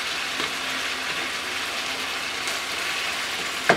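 Ground beef and onions fry in a pan with a continuous, even sizzle and crackle at close range, steady throughout with a small clink near the end and no talking.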